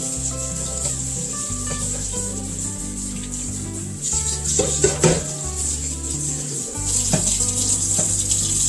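Water streams from the spout of a countertop water filtration system being cleaned, a steady close trickle with occasional clinks of metal and handling noises throughout.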